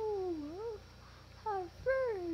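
A kitten meows several times, high rising-and-falling cries with short pauses between, fairly close over a quiet background.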